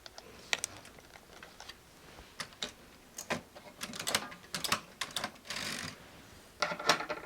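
A knitting machine running a few rows on a picot hem with eyelets, producing faint, irregular clicks and soft clacks that come in clusters, with quiet gaps in between.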